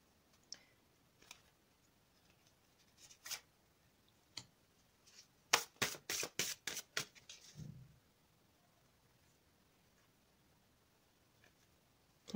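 Stiff, non-slippery tarot cards are handled and shuffled in a quiet room. Sparse light clicks lead into a close, rapid burst of riffling snaps, then quiet again.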